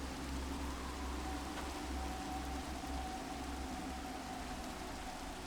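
Steady rain falls in the Minecraft world, a continuous broad hiss with a low rumbling undertone that holds evenly throughout, with no voices.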